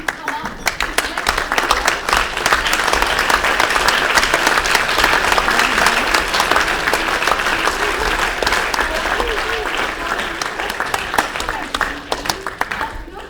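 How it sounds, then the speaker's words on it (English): A large audience at an awards ceremony breaks into sustained, dense applause that swells and holds steady for several seconds before gradually thinning out. "so round of applause"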